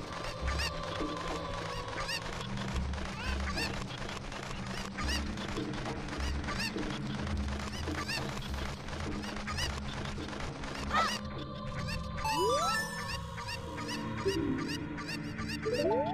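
Cucco chickens in The Legend of Zelda: Ocarina of Time, played in a Mario 64 randomizer, give repeated short honking clucks over steady game background music, followed near the end by sharper chirps and effect sounds.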